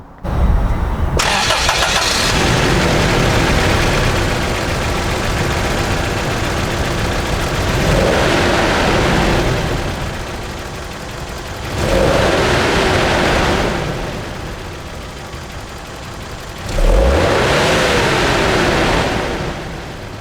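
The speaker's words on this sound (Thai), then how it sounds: "มาฟังเสียงเครื่องยนต์กัน" A Toyota LiteAce Noah car engine starts with a crank, then idles steadily, revving up sharply three times and settling back down between revs.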